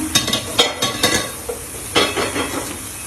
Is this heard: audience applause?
no